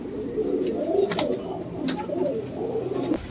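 Dabaj pigeons, a high-flying pair, coo softly in a low, rolling rhythm. Faint flutters and a few brief sharper sounds are mixed in, with no one speaking.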